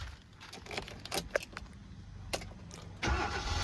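A 2010 Hyundai i20 Asta being started: a few clicks and rattles, then the engine cranks and catches near the end, close and moderately loud.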